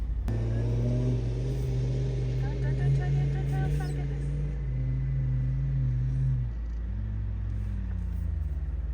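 A 4WD engine roars and revs steadily while stuck in sand on K'gari (Fraser Island), its pitch rising and falling, with a person speaking briefly over the loud rumble.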